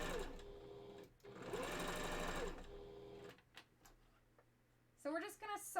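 A sewing machine stitches a fursuit bandanna in a close, quiet whirring run for about two seconds, after a brief earlier burst, followed by a pause and then a voice speaking.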